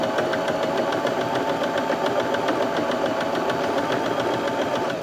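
A Bernette B35 domestic sewing machine runs continuously, stitching a close zigzag with a fast, even mechanical chatter and motor hum, loud and near, with no talking.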